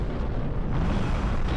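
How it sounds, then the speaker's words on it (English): A grenade explodes in the video game RAD, a deep rumbling blast that swells and lingers for over a second, loud and close with no talk over it. "I throw a grenade at him."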